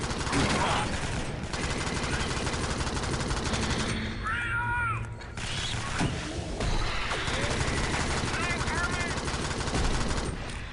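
Dense, rapid automatic gunfire fills a top-down alien shooter game, loud and nearly continuous with brief lulls and crashes, while players talk over the shooting.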